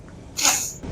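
A single short sneeze bursts out close to the microphone inside a car, a quick sharp breathy blast lasting under half a second against quiet background hum.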